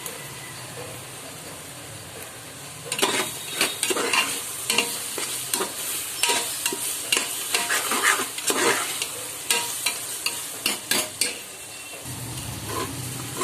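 Green chilies sauté in a pan for chicken biryani, starting after a quiet few seconds and continuing with a steady sizzle. A spoon scrapes and stirs in close, loud, uneven strokes, and the pan quietens near the end.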